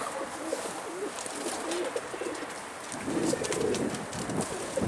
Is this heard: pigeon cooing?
yes